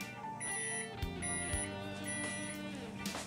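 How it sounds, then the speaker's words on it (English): A kitchen timer beeps during home beer brewing after a four-minute grain steep, a clear run of repeated electronic tones heard up close with no talk. "Okay, so my 4 minute timer went off"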